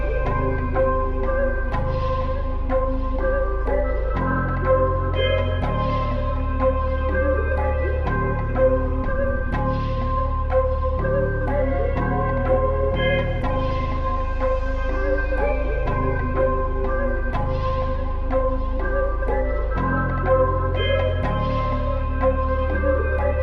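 Full hip-hop beat with a bell-like melodic loop, a crisp percussion pattern and deep booming bass, looping steadily at a consistent level for over twenty seconds with no voices.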